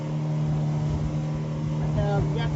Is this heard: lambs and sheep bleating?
no